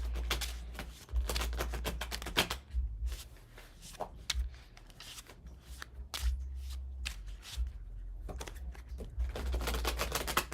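Tarot cards are shuffled by hand in quick, crisp bursts of riffling and snapping, close and fairly loud, repeated several times with short pauses between, with no talking.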